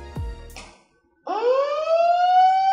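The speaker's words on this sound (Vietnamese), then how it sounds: "Đèn báo động đang sáng và sẽ có còi hú giống tiếng còi hú của cứu hỏa" An Inter-M 6000 building alarm system fires a loud fire-style siren: a brief tone and pause, then a rising electronic wail that climbs and holds steady, close and alone.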